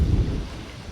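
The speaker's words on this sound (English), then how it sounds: "A lot of wind coming in." Strong wind buffets an outdoor microphone on a stand, a rough, low rumbling roar with irregular gusting bursts, loud and close, with no voices.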